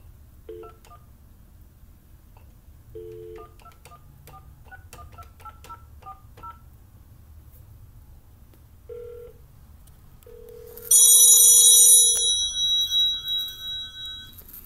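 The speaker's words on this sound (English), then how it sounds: "I'm going to go ahead and call my phone" A series of touch-tone beeps as a number is dialed, followed by a few ringback tones, then a loud electronic phone ringtone chiming near the end.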